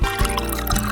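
Water is poured into a slime mixture in a short, close, burbling gush with no voices.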